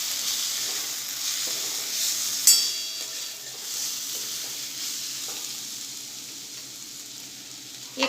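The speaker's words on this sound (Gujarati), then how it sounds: "બધું સરસ મિક્સ કરી લઈશું।" Spice mixture of coriander-cumin powder and salt is stirred in a pan, a soft steady sizzle with faint scraping strokes, one sharp clink and no talking.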